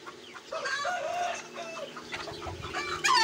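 Chickens clucking in a pen at a home poultry setup, with repeated close, loud clucks and a brief crow-like call near the end, no talk.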